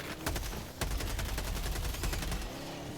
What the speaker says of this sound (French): Ah, il a le fusil à pompe.